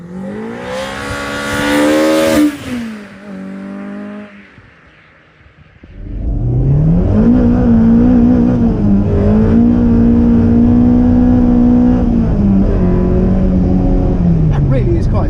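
A Mini whose engine has been swapped for a cheap replacement unit revs hard and loud close by, first in a high rising whine, then a drop, then a steady sustained rev with voices talking over it.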